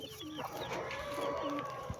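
Nearby chickens cluck in short, repeated calls over a low background hiss.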